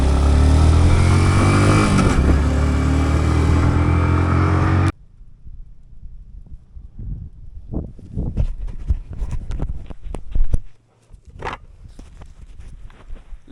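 A heavily loaded motorcycle rides through a water crossing in Ladakh near Pangong Lake. Loud engine roar and splashing come first, then a quieter stretch with clattering, sloshing and knocking noises up close.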